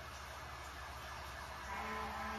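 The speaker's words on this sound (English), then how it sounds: "Oh, wow, a lot of sirens. Those sirens have been going on like all night." Emergency vehicle sirens wail faintly in the distance outside, a thin steady tone that rises slightly toward the end, with no talking.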